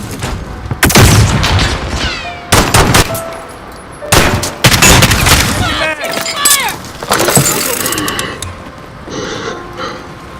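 Flashbang grenade blasts and gunfire in a Modern Warfare firefight, several loud sharp bursts and booms spaced across the scene with ringing tones between them and voices talking.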